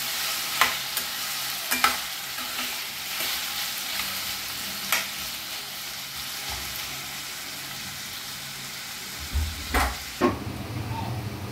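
Potatoes frying in a kadai give a continuous close sizzle, with occasional sharp clinks of a spatula against the pan. Scraping stir sounds and louder clattering near the end come through, and there is no speech.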